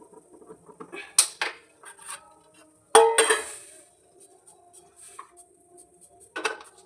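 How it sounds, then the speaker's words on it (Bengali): Chhana barfi mixture is scraped and poured from a wok into a container, giving scattered metallic clinks and scrapes of spatula on pan, with two louder bursts of clatter among quieter taps. "এবার একটা পাত্রে ঢেলে নেব"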